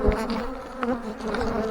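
Many honey bees buzzing on a crowded hive frame during a Demaree split, a dense, close, continuous hum with shifting pitch.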